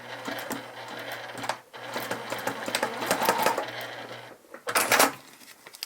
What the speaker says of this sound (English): I can sew into the seam allowance